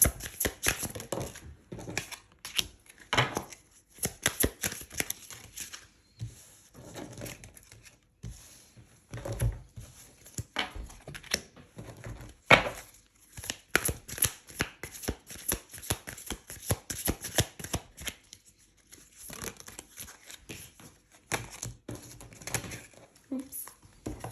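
A deck of tarot cards shuffled up close in repeated bursts of brisk riffling and slapping, broken by short pauses.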